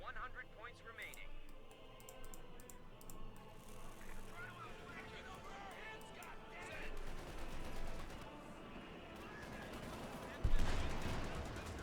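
Machine gun bursts and grenade blasts from the World War II strategy game Company of Heroes 2 rattle and thump in quick, irregular volleys, with a sharp louder explosion near the end, under an excited commentator's voice.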